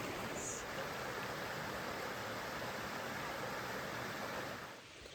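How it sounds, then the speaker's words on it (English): Steady rushing water pours continuously, a broad even splash from a small waterfall at Brown Mountain Creek on the Appalachian Trail, heard close and alone throughout. "That was a little waterfall at Brown Mountain Creek."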